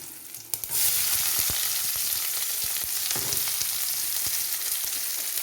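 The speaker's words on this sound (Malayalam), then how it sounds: "ഉള്ളി മൂത്ത് വരുമ്പോൾ നമുക്ക് സബോള ഇട്ട് വഴറ്റാം. ഇനി നമുക്ക് സബോള ഇട്ട് കൊടുക്കാം." Onions dropped into hot oil with popped mustard seeds burst into a loud, continuous sizzle that holds steady for several seconds, punctuated by a few scraping stirs, close up and without talk.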